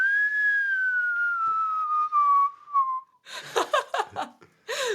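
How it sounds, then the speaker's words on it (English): One long, steady whistled note from a person, clear and close, sliding slightly lower over about three seconds, followed by laughter and breathy chuckles. "do your best whistle"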